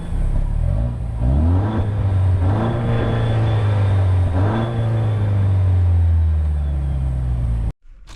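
A 2024 Toyota Land Cruiser 1958 base model in sport mode revs its engine hard, with a loud, close rumble rising through several throttle surges and then cutting off abruptly.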